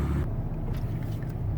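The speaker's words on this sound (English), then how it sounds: "let's get the van on the highway so you can hear it run" A 2012 Dodge Caravan SE wheelchair mobility van with 59k miles cruising on the highway: a steady low engine and road drone with tire rumble, continuous and fairly loud, no talk.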